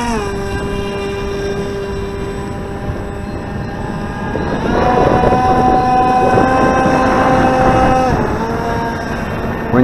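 An airboat fitted with a water rudder and a 6x5 bullnose propeller runs close by, a steady loud engine and prop drone with harmonic whine that rises in pitch and intensity midway, with wind buffeting the microphone.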